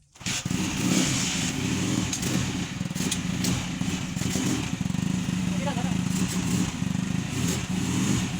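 A TMX 155 motorcycle engine catches after a stiff kick start and runs loud and close, revving up and down with a rough, steady drone for several seconds.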